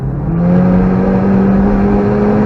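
A race car at full power on the Nürburgring, its engine a loud, steady high-pitched whine held close throughout, with a rising tone and no speech.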